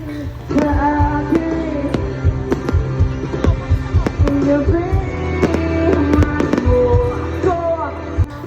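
Fireworks display at SM Mall, a dense run of sharp bangs and crackling bursts at irregular intervals over a steady low rumble and crowd noise.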